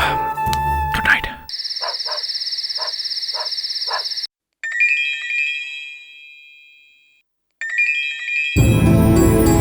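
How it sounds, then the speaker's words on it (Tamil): A phone rings in a Tamil TV drama scene at night, its bright electronic ringtone pulsing in a repeated pattern, loud and close, with other jingly tones and music cutting in around it. "லைட்டை போட்டு ஃபோன் அடிக்குது பாரு, யாருன்னு கேளு"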